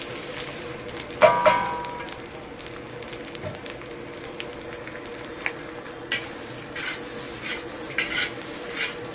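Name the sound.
stirring and roasting spice mix in a pan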